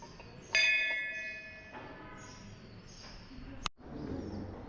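A single metal bell in the inner sanctum of a Shiva temple at Kunkeshwar is struck once and rings out with a clear, lingering tone that slowly fades, followed by a sharp knock in a quiet room.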